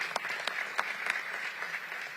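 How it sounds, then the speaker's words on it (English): An audience applauds for board members at a public forum, a faint, steady patter of scattered clapping. "Let's give it up for them."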